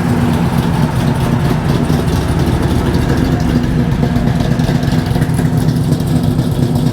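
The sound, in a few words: modified car engine idling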